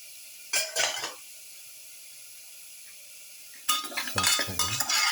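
Potato pieces sautéed with a pepper shrimp mixture in a pan, heard as two short bursts of scraping and stirring, a quiet stretch between them, then a longer run of busy clattering stirring near the end.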